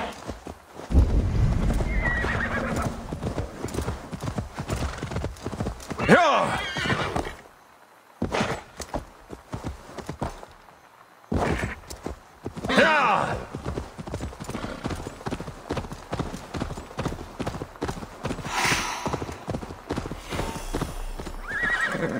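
A horse in Assassin's Creed Valhalla clip-clops along in steady hoofbeats and gives a whinny, with game music and ambience around it and brief pauses, a voice occasionally talking over it.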